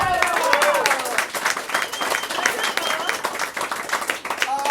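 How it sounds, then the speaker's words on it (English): Applause from the audience at an improv comedy show, a dense continuous patter of many hands clapping throughout, with voices and some cheering mixed in over the top. "give him a round of applause"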